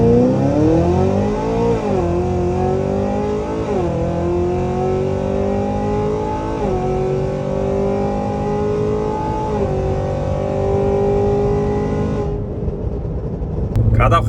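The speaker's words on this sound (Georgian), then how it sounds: "ახლა კიდე ერთხელ გავტესტავ, ნახოთ როგორ წავა მანქანა" Tuned Cadillac Escalade V, an 800-900 wheel-horsepower street build, accelerating hard on a test drive, its loud engine climbing through several upshifts in a continuous roar before abruptly cutting off near the end.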